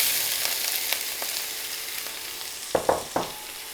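Onions hit hot oil in a pan for a Sri Lankan beef curry, setting off a steady close sizzle of frying with a few sharp splatter bursts near the end; no one speaks.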